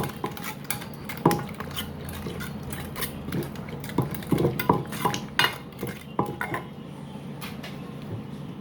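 Thai papaya salad (som tam) ingredients, including chopped fermented fish and seasoning powder, being tossed and mixed in a bowl, with irregular clinking and scraping of utensils against the dish, close and moderately loud.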